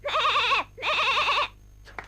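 A goat from the animated Hunchback of Notre Dame bleats twice in quick succession, two loud wavering cries close up, followed by a brief faint rustle.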